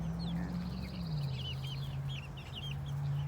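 Young chickens on a homestead, some only a few weeks old, cluck and chirp repeatedly over a steady low hum, close by with no talking.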